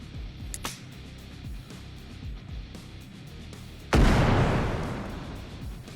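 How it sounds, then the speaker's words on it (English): M67 and F1 frag grenades going off in the game Bellum: faint clicks and thuds, then one loud, sharp blast with a long decaying rumble, no voices. "We've also improved our M67 frag grenade animations and effects, have added in the F1 fragmentation grenade"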